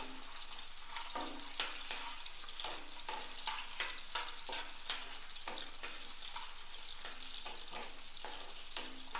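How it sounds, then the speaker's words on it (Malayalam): Brinjal stir-fry sizzling in a pan with mustard seeds while a spoon stirs it, giving a continuous frying hiss broken by regular scraping strokes across the pan, close and fairly loud. "ഇത് നന്നായി ഇളക്കി കൊടുക്കുക"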